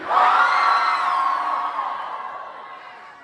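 An audience at a motivational keynote in Albuquerque screams and cheers loudly, a sustained roar of many voices that gradually fades over a few seconds.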